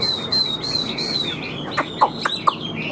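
A Chinese hwamei songbird sings close by, opening with clear sustained whistled phrases and then breaking into a run of sharp, loud chirps and tweets.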